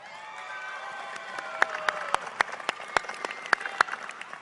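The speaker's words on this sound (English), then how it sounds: "She apparently brought a cheering section, which is fantastic." A graduation audience applauds and cheers for a student speaker, with sustained clapping and rising whoops and shouts from a lively cheering section, growing louder with sharp claps standing out near the front.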